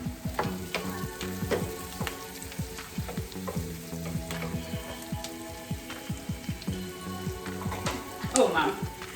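Onions sizzling and crackling in a pan in a home kitchen during an online cooking class, a steady close frying hiss with stirring clatter and scattered pops throughout, and a brief louder clatter near the end.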